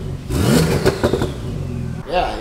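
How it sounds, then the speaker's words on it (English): Porsche 911 Turbo S tuned past 1000 horsepower, engine revving up and falling back with turbo whoosh, close and loud, a second short rev at the end. "What you are going to get, though, is a lot of turbo noise."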